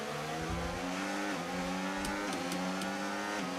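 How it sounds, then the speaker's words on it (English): Formula 1 race car engine at maximum revs in the F1 25 racing game, a loud, steady high-pitched whine held flat throughout, with a few brief dips and small ticks near the end, no voice. "The revs of the car are maximum."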